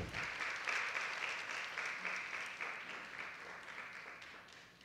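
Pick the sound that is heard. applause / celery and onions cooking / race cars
applause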